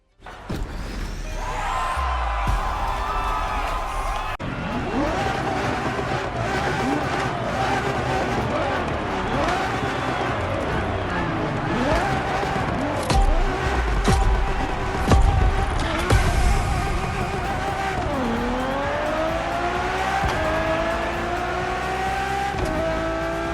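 A Ferrari Enzo supercar engine roars continuously while racing in Motorfest, revving up and down through gear changes with tire noise, loud and steady throughout.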